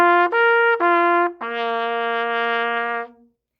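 Trumpet playing four separate notes at different pitches, made by changing the lip buzz: three short tones, then a longer lower note held to the end, close and clear with no talking.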